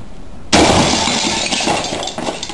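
A sudden loud burst of shattering glass as a person jumps off a roof through a door covered in lightbulbs, the crash followed by a long, dense tinkling of falling shards that slowly fades.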